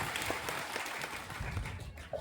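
Audience applause at a farmers' rally, a steady wash of clapping at moderate distance lasting throughout, with faint voices mixed in.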